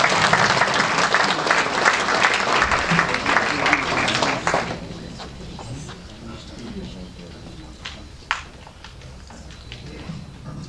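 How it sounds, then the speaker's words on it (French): Dense crowd applause at a New Year's address in Essert, loud for about four and a half seconds, then fading to a few scattered claps and low room noise. "Voilà, on peut les applaudir."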